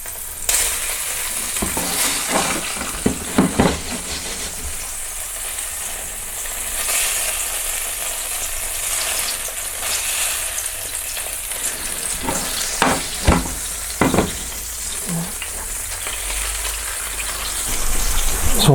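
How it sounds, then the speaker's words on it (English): A black pudding Scotch egg fries in melted butter, a continuous crackling sizzle scattered with sharp pops and a few brief clatters, no voices heard. "So I'm just melting some butter, and we're gonna try and cook it in that."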